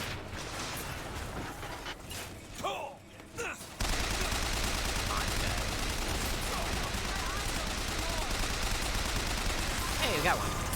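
Automated turrets in a video game fire rapid bursts of gunfire. A brief quieter gap comes early, then the shooting runs as a steady, loud, continuous rattle with sharper shots over it, and speech is mixed in.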